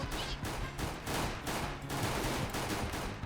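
Rapid bursts of automatic gunfire in CS:GO, loud and close, with repeated volleys in a steady rhythm.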